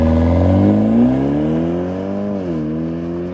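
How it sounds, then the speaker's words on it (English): The exhaust of a bagged BMW 328i xDrive F31 wagon revs up and falls back close by, its loud tone rising in pitch and then dropping away, with no talking. "It has the right, burbles and pops and, everything that I want."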